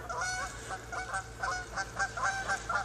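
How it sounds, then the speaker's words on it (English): Geese honk repeatedly near a pond, a close, rhythmic series of nasal calls over a low steady background hum, with no one speaking. "Geese are out there playing."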